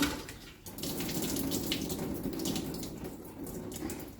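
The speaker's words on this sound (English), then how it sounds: "I'm actually going to wring this out 3 times" Water runs and patters steadily as a soaked piece is wrung out by hand, a continuous close splashing trickle while prepping for a double coat, with no talk.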